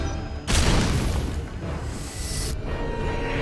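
Shotgun blast in Metal Gear Solid V during a FOB security defense, a loud, sudden broadband boom that rings out for about two seconds before settling into a continuing roar of game noise.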